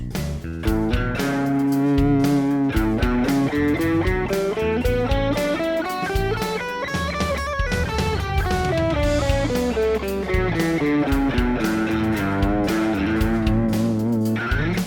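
Sustained electric guitar lead with bending, melodic lines over a steady backing track, loud and continuous throughout with no talking.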